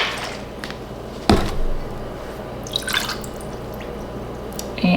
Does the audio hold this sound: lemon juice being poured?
yes